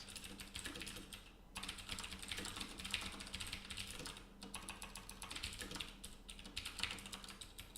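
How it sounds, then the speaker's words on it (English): Rapid typing on a computer keyboard: dense, continuous clicking and clattering of keys with a few short pauses between bursts, close and fairly quiet. "Look at all the times I'm typing this."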